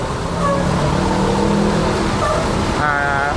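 An ANS intercity bus from Bukittinggi pulls into a Jakarta terminal, its engine rumbling steadily and close by, with a horn-like tonal burst near the end and faint voices in the background.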